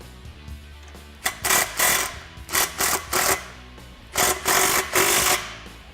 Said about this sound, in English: grab our 15mm socket, tighten down this clamp, and then do the same thing for the other muffler